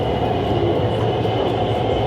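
A Beijing subway train running, a loud, steady rumble and roar of the carriage with rail noise throughout, heard from inside, with no talking.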